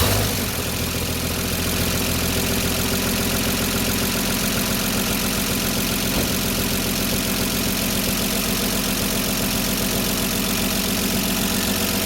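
A 1974 Dodge D100 pickup engine, freshly tuned with valves adjusted, catches quickly and settles into a steady, loud, close idle around 800 rpm, running alone without any talk.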